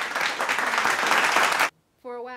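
A short burst of brisk hand clapping from one person at home, loud and close, cutting off abruptly before a voice starts speaking.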